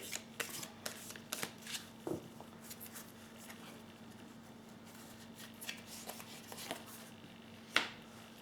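Tarot cards being drawn and shuffled during a weekly reading, giving scattered soft paper flicks and snaps at close range over a quiet room with a steady low hum, with a sharper card slap near the end.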